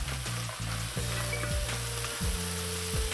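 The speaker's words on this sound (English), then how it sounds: "Now I'm adding in my beans." Beans go into a hot pot for Jamaican rice and peas, bringing a loud, close sizzle and frying crackle broken by repeated scraping knocks of stirring at a regular pace.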